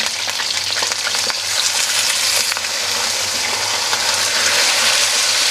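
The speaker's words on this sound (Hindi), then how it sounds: "बेसिकली हमने ना ऑयल में चिकन को फ्राई करना होता है" Chicken fries in oil in a karahi for a restaurant-style chicken karahi, giving a loud, continuous bright sizzle with bubbling crackle and occasional stirring, close and steady throughout.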